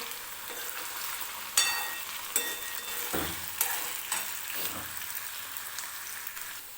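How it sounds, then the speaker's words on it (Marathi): Potatoes frying in oil for sabudana khichdi, a close crackling sizzle with several sharp stirring scrapes and clicks spaced through it, and no talk. "तेलामध्ये फ्राय करून घ्यायचा आहे"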